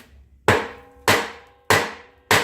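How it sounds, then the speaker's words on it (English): A hammer strikes the bearing retainer on a 1945 Ford 2N tractor four times, with sharp metallic whacks about 0.6 seconds apart, each ringing briefly and decaying. The blows are loud and close, and no one is talking. "just start whacking it a little bit"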